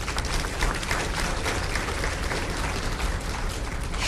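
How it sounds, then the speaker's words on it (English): A crowd at a city's State of the City event applauds its sponsors, a continuous wash of clapping that stays even and fairly loud throughout without speech. "Please give them a round of applause."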